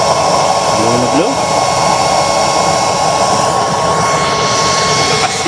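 DIY waste oil stove burner with a 24-hole nozzle in a 3-inch chamber roars steadily and loudly up close, a constant blowing rush with no break.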